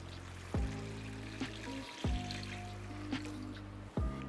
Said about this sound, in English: Now we're gonna add 4 cups of water.